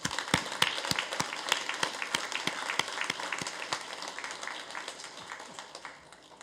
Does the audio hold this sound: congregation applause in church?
yes